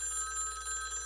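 A telephone rings with a steady electronic tone, moderately loud and continuous through the short stretch, with no talking over it.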